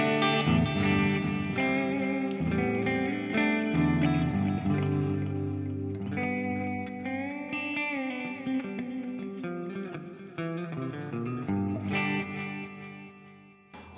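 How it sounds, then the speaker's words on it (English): Sustained electric guitar chords played through a Plethora X5 pedalboard with delay and reverb ring out in layered, echoing swells, loud and alone, with notes blurring into one another and trailing off at the end. "so now with delay and reverb"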